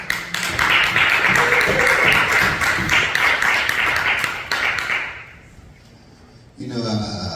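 At a poetry reading in the Bluebird Performance Center, the audience claps steadily and fairly loudly, and the applause tapers off into quiet before a voice starts speaking.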